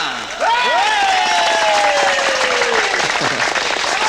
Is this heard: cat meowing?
no